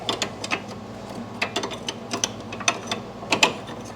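A ratchet works on the bolt of a front sway bar end link on a 2006 Mercedes SLK55 AMG, giving close, quiet clicking in short irregular bursts against a faint background hum.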